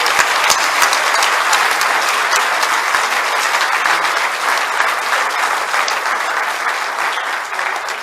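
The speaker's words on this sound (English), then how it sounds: "Let's give the entire group a round of applause one more time." Sustained audience applause fills a hall at a wrestling hall of fame ceremony, dense and steady clapping throughout, loud and close, slowly easing toward the end.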